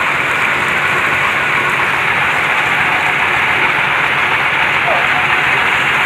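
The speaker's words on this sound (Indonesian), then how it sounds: "Suasana hujan turun cukup deras di lokasi pengeboran." Heavy rain pours steadily at a deep well-drilling site in a village, a constant loud hiss with a low mechanical rumble beneath.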